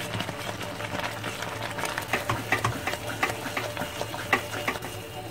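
Semolina and almond burfi mixture stirred in a kadhai over low heat, a steady run of scraping, clicking spoon strokes against the metal pan, close and fairly loud, with a faint thick sizzle underneath.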